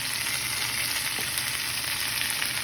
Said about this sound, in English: So now I am going to add my baby spinach in the same pan that I took the shrimp from.